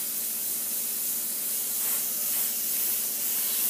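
Airbrush spraying paint on a rifle in comic cover artwork, a close, steady airy hiss that holds continuously with slight swells and no talk.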